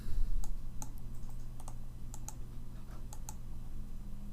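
Computer keyboard typing: a short run of light, separate key clicks in an uneven rhythm, close and fairly quiet over a steady low hum, with no one talking.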